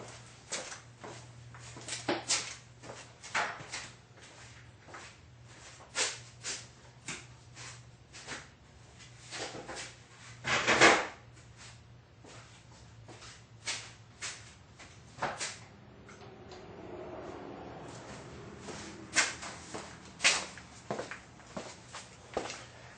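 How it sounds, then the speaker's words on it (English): A flat screwdriver scrapes old gasket material off the metal valve cover of a Chevy S-10, making a steady series of short, close scratchy strokes with small clicks between them. "So let me get my flat screwdriver and scrape some of this off."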